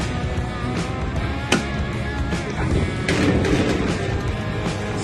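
A 10-ton Carrier rooftop air-conditioning unit is running, giving a loud, dense, continuous mechanical roar with a single thump partway through and a slight swell later.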